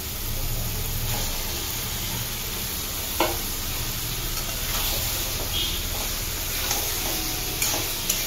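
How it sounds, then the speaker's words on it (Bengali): Goat meat trimmings frying in spice masala in a pan, a loud, steady, close sizzle with occasional scraping stirs and clinks, no voices. "এবার আমরা এর মধ্যে খাসির ছাড়টা দিয়ে দেবো।"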